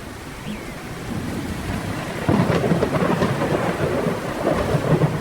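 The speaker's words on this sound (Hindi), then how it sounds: "थोड़ी ही देर में तूफान के साथ साथ तेज बारिश भी शुरू हो जाती है।" Heavy rain pours steadily with rumbling thunder that swells partway through, a dense, loud wash of storm noise with no voices.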